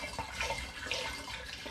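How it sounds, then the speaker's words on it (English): Apple juice poured through a funnel into a glass demijohn for turbo cider, giving a steady close-up splashing, gurgling stream of liquid that runs without a break and with no voices. "Pour my apple juice into a demijohn"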